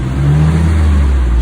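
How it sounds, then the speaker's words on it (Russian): A Mitsubishi Pajero 4 with a 3.8 engine and controlled exhaust runs at idle, a loud, steady, deep rumble close by. "Сейчас машина заведена."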